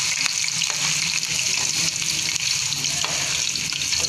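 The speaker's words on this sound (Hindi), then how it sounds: "उसके बाद मैं अपने चावल फ्राई करूँगी" Rice fries with onion in a hot pan, a steady close sizzle with faint stirring scrapes running throughout, no talk.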